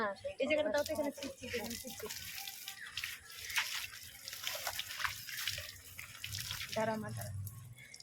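Water is poured and splashed over a cow during a bath. Irregular gushes and drips run throughout while people talk nearby.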